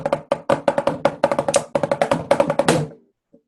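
A drum fill built from rudiments, with flams, drags, paradiddles, five-stroke rolls and single strokes. It plays as a rapid, dense run of crisp, close hits, then stops into silence.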